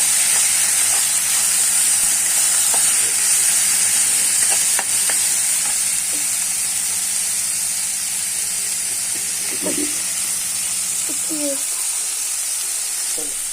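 Curry leaves frying in hot oil in a pan, a loud continuous hiss and sizzle with occasional faint scrapes and clicks of stirring.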